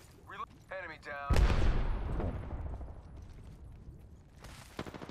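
A single loud gunshot in Apex Legends cracks out after short bursts of speech-like game chatter, ringing off in a long decaying tail before more voices and clicks return at the end.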